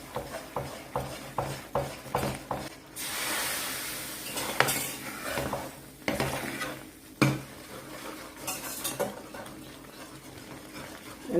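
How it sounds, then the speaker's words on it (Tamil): Hot oil ladled into a Mysore pak mixture of gram flour and ghee, with bursts of foamy bubbling and sizzling, plus repeated stirring scrapes and clinks of a spoon against a pan, close and without talk. "காய்ச்ச எண்ணெய் ஊற்றும் போது தான் இந்த மாதிரி நல்லா பபிள்ஸ் மாதிரி பொங்கி வருது"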